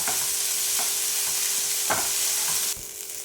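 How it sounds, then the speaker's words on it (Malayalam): Minced chicken stir-fried with vegetables in a pan, a continuous close sizzle broken by a few scraping stirs of the spatula, the sizzle dropping slightly near the end; no talking. "ഇനി ഇതിലേക്ക് നമ്മൾ പൊടിച്ച് വെച്ചിരിക്കുന്ന ചിക്കൻ ചേർക്കാം. വീണ്ടും നന്നായിട്ടൊന്ന് മിക്സ് ചെയ്ത് എടുക്കാം."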